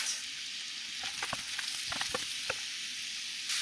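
Onions, celery and apples sauté together in a pan, giving a soft, even sizzle with a scattering of light clicking stir strokes in the middle.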